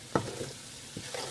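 Quiet, soft sizzle of onion, garlic and ginger frying in butter over medium heat, broken by two short scraping stirs in the pan.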